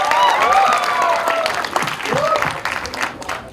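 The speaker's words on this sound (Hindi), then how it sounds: "जोरदार ताली होनी चाहिए" A crowd at a public event for the Border 2 film team claps loudly, and whoops and voices rise over the applause before it thins out toward the end.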